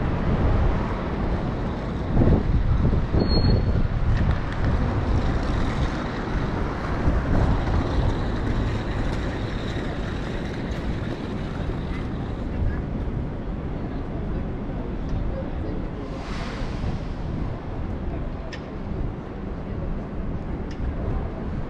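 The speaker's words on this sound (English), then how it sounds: "There's like what, 15-mile-per-hour winds." Wind gusting steadily across a microphone outdoors on a San Francisco street near North Beach, about 15 mph, a continuous broadband rumble and hiss that stays loud throughout with no voices.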